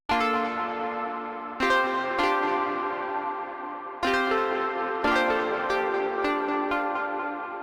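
Rich, bell-like chords from the Analog Unison preset in the Pigments synthesizer, struck about half a dozen times, each ringing out and slowly fading before the next hit.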